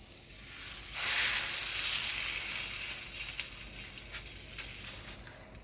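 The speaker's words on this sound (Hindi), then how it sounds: "पानी लगाने के बाद मैं इसको तवे पे रख दूंगी।" Garlic naan dough, one side wetted with water, is laid on a hot tawa griddle over a flame turned from high to medium. It sets off a sudden loud hiss that gradually settles into a softer, crackling sizzle.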